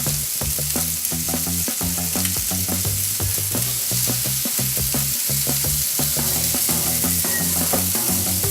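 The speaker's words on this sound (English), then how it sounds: "Now I'm going to space these sausages out and brown them up." Pre-cooked breakfast sausages browning in a hot pan give a steady, loud sizzle and crackle with a continuous frying hiss and frequent pops, heard up close with no talking.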